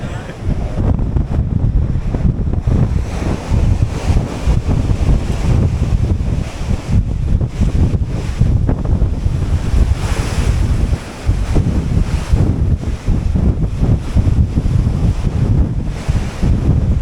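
Heavy wind and rough sea waves on the North Atlantic aboard the Queen Mary 2 in November foul weather, a loud, continuous roar of gusts and surf with brief dips, close to the microphone and without speech.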